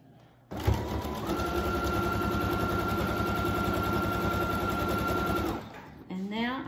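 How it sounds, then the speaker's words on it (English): A sewing machine stitches a cloth face mask with string ties, a steady rapid mechanical whir running for about five seconds after a sharp start, then stopping, with faint handling noises at the end. "Sew on down to the corner"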